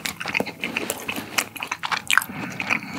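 Raw beef sashimi dipped in mungtigi sauce being chewed close up, with soft wet bites and light crunching repeating steadily for a few seconds, no talking.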